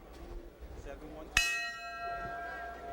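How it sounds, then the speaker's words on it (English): A boxing ring bell rings once to start round 2 of a professional fight, a sharp metallic strike with a long ringing decay over arena crowd murmur. "Bell sounds to bring the battlers into the center of the ring for round 2."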